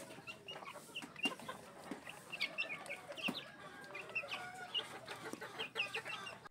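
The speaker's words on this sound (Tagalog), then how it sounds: "Nagkagulo na ang mga sisiw, hindi ko maipasok ang patukaan nila dahil umapak na sila doon." Chicks in a brooder cluck and peep eagerly while eating feed, a dense, continuous busy chatter of small birds with scattered sharper chirps, fairly faint overall.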